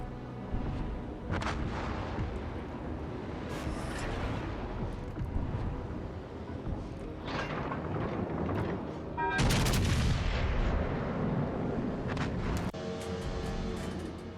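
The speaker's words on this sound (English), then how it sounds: "That was a 12 gauge shotgun coming out of the Roma guns right there." Heavy battleship guns of the Roma fire in the Azur Lane game, with repeated deep booms and rumbling volleys overlapping almost continuously, loud and dense, punctuated by sharper blasts.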